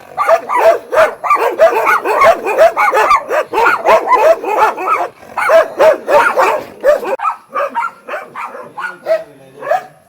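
Several dogs barking loudly and rapidly in a continuous chorus, close by, tapering into scattered yips and whimpers toward the end.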